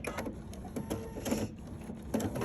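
Pfaff Creative 4.5 embroidery and sewing machine stitching fabric, a rapid, even mechanical chatter of the needle with small rhythmic pulses, close and steady throughout, with no voices.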